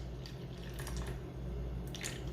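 Water poured into a small bowl sitting on a kitchen scale, a brief faint trickle over steady background hiss with no voices.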